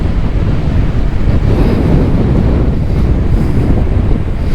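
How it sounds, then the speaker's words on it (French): Strong wind blows hard on a busy roadside along a long-distance journey, a constant loud roaring buffet that fills the whole span with no break, with no other distinct sounds. "ce vent qui souffle en fait super fort tout le temps, c'est pas agréable"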